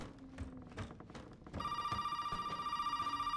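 An old telephone bell in Resident Evil 7 Biohazard starts ringing about halfway through, loud and steady with a rapid trill, after a stretch of quieter in-game thumps and movement.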